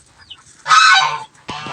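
A male duck gives a sustained raspy honk up close, followed after a pause by a second, shorter honk.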